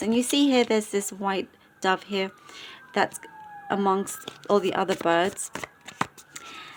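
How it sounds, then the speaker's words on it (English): A distant siren wails with slow rising and falling tones beneath a person speaking in short phrases. "There is, sorry about the sirens"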